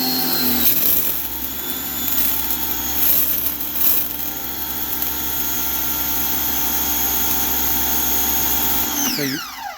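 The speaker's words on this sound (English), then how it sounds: "So you heard that on and off, on and off. So now it's fully primed." An electric pressure washer pump hums steadily and loudly while priming, its motor whining at a constant pitch before winding down sharply near the end.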